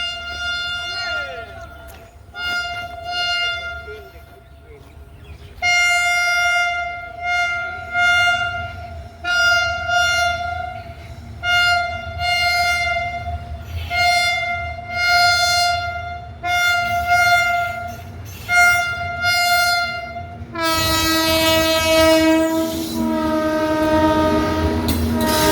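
A freight train rolls past close by, its loud horn sounding repeatedly in long harmonic blasts over the heavy rumble and clatter of the wagons, with a final, more intense horn burst near the end.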